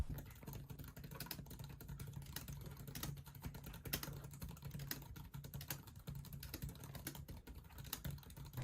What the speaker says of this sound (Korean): 타이핑 소리 한번 들어볼게요